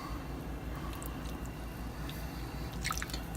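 Marinade is poured over pork chops, giving faint wet drips and soft squishing, quiet and close with no talking.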